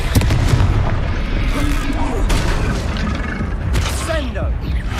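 Fiery Confringo spell blasts boom repeatedly through a Hogwarts Legacy duel, loud and dense, layered with other combat effects and a steady rumble, while voices call out over the fighting.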